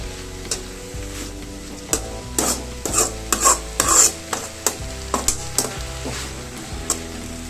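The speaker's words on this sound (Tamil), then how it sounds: "இதை நல்லா கிளறி விட்டுக்கலாம்." Drumstick leaves (murungai keerai) being stirred in a pan for a stir-fry, with irregular scraping and clinking strokes of a spoon against the pan over a low sizzle, close and moderately loud.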